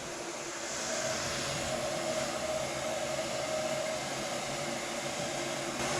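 A heat gun blows steadily on a plastic car bumper during a crease repair, a continuous, fairly loud airy whoosh with a faint whine, holding level throughout with no talking.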